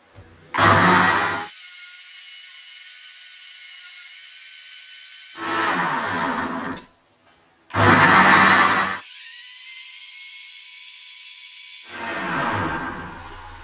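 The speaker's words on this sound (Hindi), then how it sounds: "बस इसको खूब अच्छी तरह से अब आपने ब्लेंड करना है।" A kitchen blender blending fruit juice whirs loudly in two long bursts, pausing briefly between runs, its motor note shifting as the fruit and water churn.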